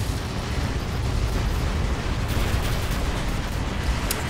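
A robot's heavy weapon fires in the War Robots video game, a loud sustained roaring blast of dense broadband noise with rumbling low end.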